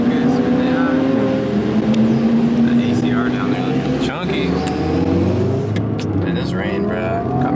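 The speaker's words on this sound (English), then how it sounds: "And I hear them turbos." A twin-turbo car engine roars loudly and steadily nearby, with rising and falling tones from the engine and turbos as it revs, while someone talks over it.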